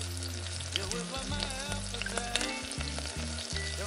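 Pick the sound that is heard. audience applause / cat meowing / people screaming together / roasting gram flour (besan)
roasting gram flour (besan)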